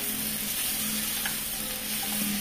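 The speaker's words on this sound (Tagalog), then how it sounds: "Halo-halo ko lang ito." Shrimp, broccoli and mushrooms are stirred in a sizzling pan, a continuous soft frying hiss with faint scraping of the utensil throughout, fairly quiet and without talk.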